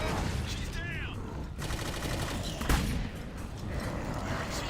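Teammates firing on enemies in Clive Barker's Jericho, a dense chatter of overlapping automatic gunfire with a few louder cracks, steady and continuous, with some speech mixed in.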